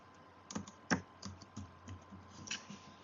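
Keys clatter on a computer keyboard in a short, irregular burst, one stroke noticeably louder than the rest, close and quiet with no talking.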